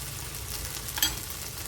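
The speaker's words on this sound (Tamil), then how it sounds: "நல்லா கிளறி விடுங்க." Chili powder being stirred into mutton masala frying with mashed tomato, giving a steady close sizzle with a brief scrape of the spoon near the end.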